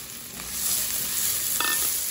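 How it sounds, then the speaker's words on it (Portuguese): Chopped onion sizzling in olive oil in a hot pan at the start of a brie and grape risotto, a steady close frying hiss with brief stirring clatter near the end. "Um fio de azeite, vou começar o meu risoto. Vou colocar uma cebola picada."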